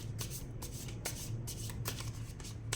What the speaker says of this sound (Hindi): एक और कार्ड लेते हैं